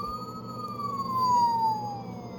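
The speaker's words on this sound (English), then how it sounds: "Here's the long siren again." A single electronic siren tone from an Optimus Prime toy figure slides slowly downward in pitch, steady and clear, over a faint background hum.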